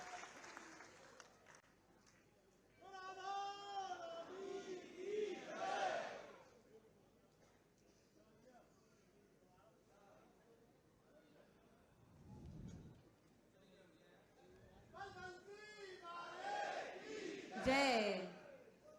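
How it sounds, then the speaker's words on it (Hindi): A political rally crowd breaks into two bursts of clapping mixed with shouted chants of praise, moderately distant, separated by a quieter stretch with a voice speaking over a PA. "आप सभी जोरदार तालियां बजाएं और साथ ही साथ जय घोष भी करें"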